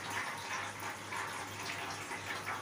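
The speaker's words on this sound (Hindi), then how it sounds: "ये चावल का पानी निथार रही है" Water being poured off cooked rice in a home kitchen makes a continuous splashing rush at a steady level, with no one talking over it.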